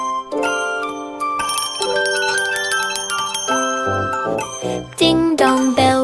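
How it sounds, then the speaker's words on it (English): Bright ringing bells in a children's nursery rhyme song, layered with sustained melodic tones and chiming notes that continue throughout, growing busier and louder toward the end. "Ding dong bell rings loud and clear"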